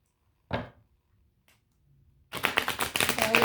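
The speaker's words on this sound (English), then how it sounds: "let me shuffle just a second here" Tarot cards being shuffled by hand: a single crisp slap near the start, a faint tap, then a dense run of rapid riffling and flicking that continues loudly to the end.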